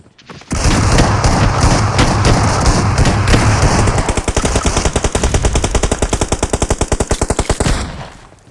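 Automatic gunfire in the mobile shooter BGMI, first a dense roar of overlapping shots, then a long run of rapid, evenly spaced bursts from close by before it cuts off.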